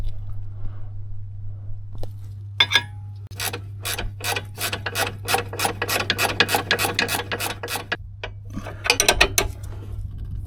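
A spanner ratchets steadily on the lower anti-roll bar link nut of a Vauxhall Corsa, a fast run of close, crisp clicking strokes over a constant low hum, with no talking.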